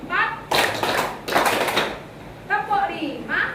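A rhythmic hand-clapping ice-breaking game in a classroom: bursts of claps come in separate groups, with a teacher's voice counting between them.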